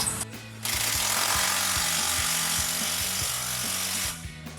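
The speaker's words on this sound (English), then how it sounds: "You'll take your electric impact with a 15 millimeter." Electric impact wrench with a 15 mm socket tightening exhaust clamps on a car, a rapid rattling hammer burst of about three and a half seconds, preceded and followed by a quiet pause.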